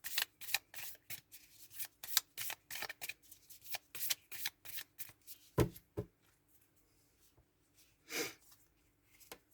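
Love oracle cards shuffled by hand in a steady run of crisp riffling flicks, fairly close and alone, pausing briefly before a final louder burst near the end.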